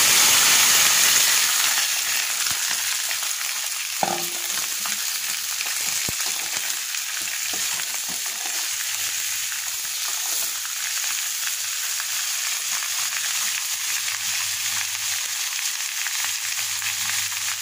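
Raw plantain pieces fry in a pan, a loud steady sizzle and hiss with a brief clatter as they drop in early on, continuing evenly and close with no speech.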